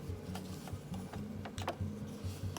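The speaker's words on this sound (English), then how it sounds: "we're at my sewing machine" A sewing machine stitches small fabric squares for envelope pockets, a quiet mechanical clatter of short rhythmic bursts with brief pauses between runs, alone without talk.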